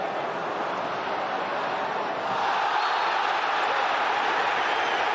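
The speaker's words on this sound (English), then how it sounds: "the crowd now are very much roaring for the referee to give Ronaldo a bit more protection" A packed football stadium crowd at Highbury roars continuously during a Premier League match against Arsenal, a dense, distant wall of voices that swells slightly midway and holds steady.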